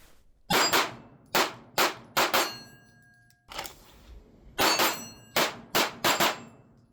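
Jacob Grey TWC HEX pistol firing Fiocchi 115 grain ammunition, sharp loud shots in quick clusters with ringing steel-target clangs and short pauses between strings, with no speech.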